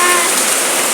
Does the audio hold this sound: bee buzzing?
no